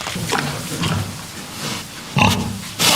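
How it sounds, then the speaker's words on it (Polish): Pigs on a Polish farm grunt and oink repeatedly at close range, in uneven bursts with louder snorts toward the end. "To świnie hodowaliśmy od zawsze i hodujemy pewnie będziemy hodować."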